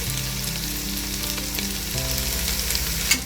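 Onions and ginger garlic paste frying in a pan for chicken biryani, a steady, close sizzle running throughout with faint stirring and a brief clack near the end, no talking.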